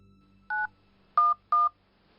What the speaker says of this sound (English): Quick, call 911.